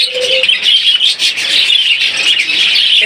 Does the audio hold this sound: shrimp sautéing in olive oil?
no